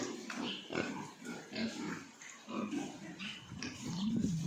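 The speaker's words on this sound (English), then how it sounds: "cleaning out and feeding the pigs." Pigs on a farm grunt and oink, close and fairly quiet, in a busy overlapping chorus of short snorts and squeals with a longer squeal near the end.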